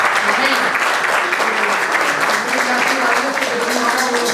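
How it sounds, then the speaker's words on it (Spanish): Audience applause fills a church service, steady dense clapping throughout, with voices mixed in underneath. "Un aplauso para ellos."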